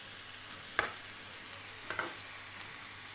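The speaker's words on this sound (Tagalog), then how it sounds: "Igisa lang natin ng mantika" Boiled food sautéed in cooking oil gives a faint, steady sizzle, broken by two or three soft clicks of stirring spread across a few seconds.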